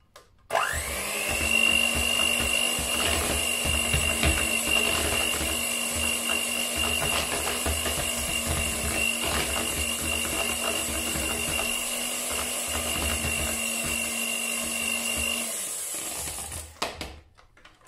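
An electric hand mixer whirs steadily for about fifteen seconds as it re-whips chocolate whipped cream in a bowl, a sustained mechanical hum that stops near the end.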